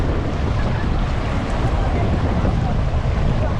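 Big sea waves at Siargao roar steadily up close, a dense continuous wash of surf mixed with wind buffeting, with no breaks.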